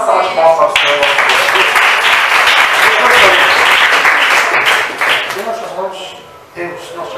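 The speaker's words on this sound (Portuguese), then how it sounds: "Uma salva de palmas para o Senhor." Loud, dense applause from a church congregation at an evening worship service, sustained and close, easing off near the end as a voice comes through.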